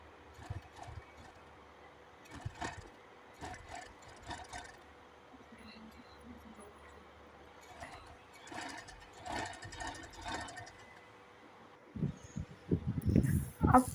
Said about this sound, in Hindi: इस तरह से हमने पूरे दुपट्टे को सिलाई कर लेना है।